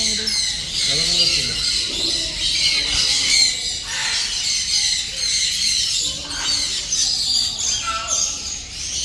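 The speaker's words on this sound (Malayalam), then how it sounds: "ഈ കിളികളുടെ ശബ്ദമൊക്കെ ഇങ്ങനെ കേട്ടിരിക്കാൻ നല്ല രസമാണ് കേട്ടോ" Harsh bird squawks and calls ring out repeatedly over a bright, noisy outdoor background, with a voice talking intermittently.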